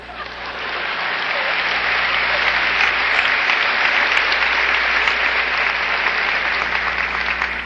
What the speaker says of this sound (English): it's premature, your applause